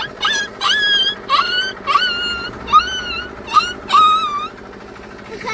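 A voice repeatedly imitates a dog, giving about seven short yelping barks in an uneven rhythm, close and fairly loud.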